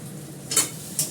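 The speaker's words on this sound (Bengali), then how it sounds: "এটা একটু নাড়াচাড়া করি।" Curry leaves frying in a pan while being stirred, a soft steady sizzle with two brief bright scraping stirs of the spatula, close up and without talk.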